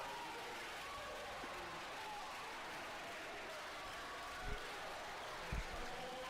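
Steady, distant applause from a crowd at a high school basketball game fills the gymnasium at low volume, with a couple of brief low thumps near the end.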